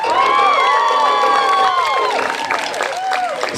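At the close of a drama in a village theatre, the audience claps and cheers. Loud, high-pitched shrieks and cheers ride over continuous clapping close by.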